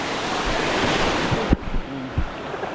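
Water rushing steadily at Krabi Hot Stream Waterfall in Thailand, a constant wash of falling water close by, with a brief knock or splash and faint low sounds partway through.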